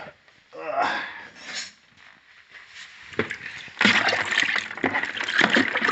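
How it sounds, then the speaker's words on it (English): Turkey legs sloshed by hand in a brine bath splash and slosh in uneven bursts, growing busier and louder in the second half, with a voice talking under the water noise. "all I'm doing now is just kind of agitating this bath so that we can get a lot of the brine solution moved around in the bath"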